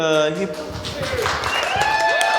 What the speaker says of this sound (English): Why you clap for him but not for the people with dead moms?